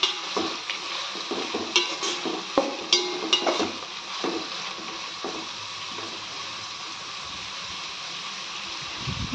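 Onions fry in a pan with salt added while a spoon stirs them, close scraping and clinking strokes over a steady sizzle, busier at first and settling into a continuous hiss, with no voices.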